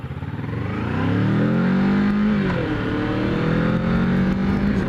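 A 2015 Kawasaki Ninja 650 motorcycle on a test ride, its engine revving up loud and close, holding a steady droning pitch, dipping briefly, then carrying on at a sustained cruise.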